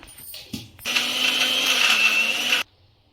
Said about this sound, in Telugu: గారెలకైతే మిక్సీ పడదాం